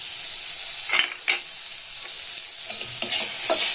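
Grated ginger for a potato paratha filling fries in hot oil, giving a steady close sizzle with a few sharp stirring scrapes against the pan and no voices.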